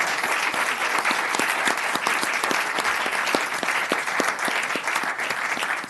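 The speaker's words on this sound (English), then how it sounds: "let's give them all a round of applause for their service" Applause fills the chamber at a city council meeting, many hands clapping steadily at moderate volume with a few sharper individual claps standing out from the crowd.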